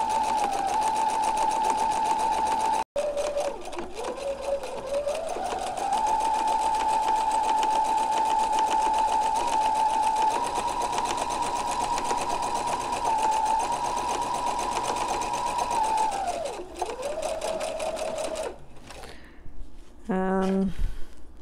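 A sewing machine top-stitches the folded edge of a fabric mask, its motor whirring steadily up close for most of the stretch, with a brief pause early on and a short stop near the end.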